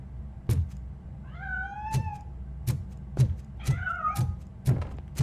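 A cat meows twice in the video game RoboCop: Rogue City, drawn-out, wavering calls heard up close between a regular series of sharp, heavy thuds like footsteps or knocks.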